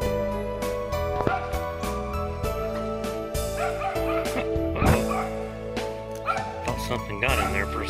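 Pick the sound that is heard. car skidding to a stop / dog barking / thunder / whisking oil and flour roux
dog barking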